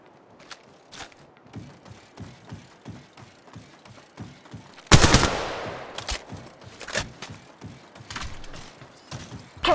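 Machine gun fire in a shooter video game rattles in short repeated bursts with mechanical clicks between them, then a louder, heavier volley breaks out midway and continues in uneven bursts up close.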